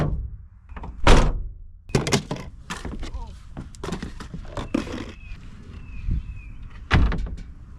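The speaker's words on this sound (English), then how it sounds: "So step one is to close the doors." Van doors closing with several heavy, close thunks and shorter knocks and clatters spread unevenly among them, with softer handling noises in between.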